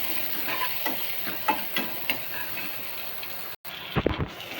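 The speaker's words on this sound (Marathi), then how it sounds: "त्याला चांगलं हलवून घ्यायचं" Onion and curry leaves fry in a pan while being stirred, giving a soft, continuous sizzle with light, regular taps and scrapes, and a short break of silence near the end.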